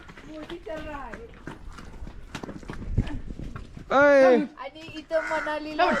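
A horse ridden on a trail in Shimla, Himachal Pradesh, gives intermittent hoof clip-clops under steady nearby talking, with a loud voiced burst and children's voices joining partway through.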